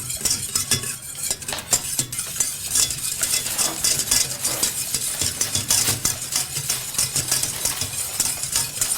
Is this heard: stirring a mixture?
yes